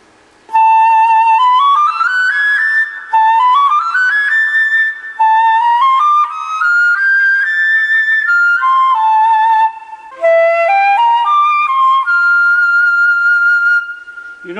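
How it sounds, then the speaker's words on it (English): A flute plays rising melodic phrases in the upper register, clear and close, with short breaths between the phrases and no voices. "It is a question of blowing into the flute."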